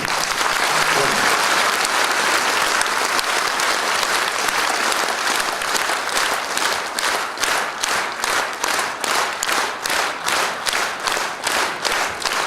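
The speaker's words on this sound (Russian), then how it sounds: "если мы все не будем аплодировать сегодня Валерию Ильичу Винокурову." Audience applause at an academic lecture event in Yakutsk, starting as loud scattered clapping and settling into rhythmic clapping in unison during the second half.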